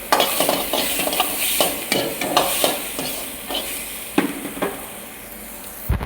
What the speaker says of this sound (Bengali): চলো হারি মির্চি ঢেলে দিচ্ছি, দেখতে পাচ্ছি ভেজে নেবো মশলাটা।